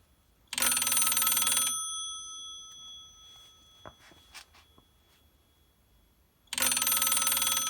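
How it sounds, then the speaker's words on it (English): An ITT three-line hold key telephone rings with its electromechanical bell, a loud sustained ring at the start, a quiet gap with faint clicks, then the ring again near the end. "you'll see the light light up during the ringing"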